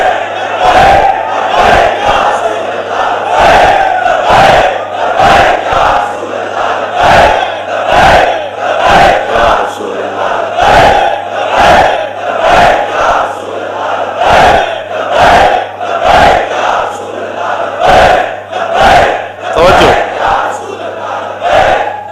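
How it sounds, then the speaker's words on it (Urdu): A large crowd in a mosque chants religious slogans in loud, regular bursts, roughly one shout per second repeated steadily throughout, with a constant low hum underneath. "اے جڑے تسی نعرے لا رہے ہو"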